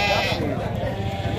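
Goats bleat in a loud, crowded tone at a busy goat market in Custódia, Pernambuco, near trucks full of animals, with a steady background murmur of people and bustle underneath.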